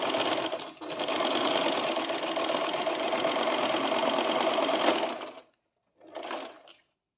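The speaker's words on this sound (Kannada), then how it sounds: "ನೋಡಿ ಇವಾಗ ಸ್ಟಿಚ್ ಮಾಡ್ಕೊಂಡಿದ್ದೀನಿ" Sewing machine stitching the side cut of a chudidar, a close steady whirring run of rapid needle strokes lasting about five seconds, a short pause, then a brief second burst of stitching.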